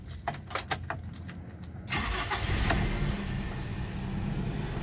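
A 2004 Toyota Kijang LGX 1.8 manual starts up after a few clicks and handling sounds, the starter catching and the engine settling into a steady idle that runs on to the end.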